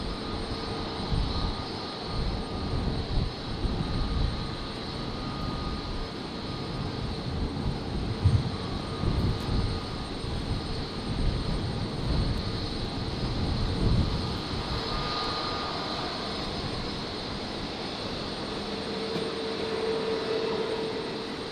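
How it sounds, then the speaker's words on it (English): Qantas Embraer 190 jet arriving to land at Brisbane airport on a stormy night, a distant steady jet roar with a faint whine, low and continuous with a brief tonal rise near the end. "Next arrival, just about to touch down. Qantas Lincoln Embraer 190 coming in from Canberra."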